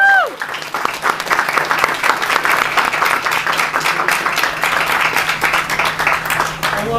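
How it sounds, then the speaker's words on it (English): Sustained audience applause fills a convention hall after a He-Man and the Masters of the Universe panel at Power-Con/ThunderCon 2017, dense steady clapping with some crowd voices and cheers mixed in, holding strong throughout. "let's give them one more round of applause"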